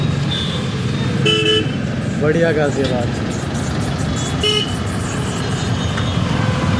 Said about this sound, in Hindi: बस थोड़ा सा ट्रैफिक रहता है।